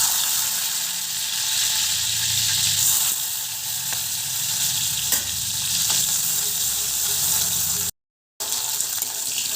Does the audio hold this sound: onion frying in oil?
yes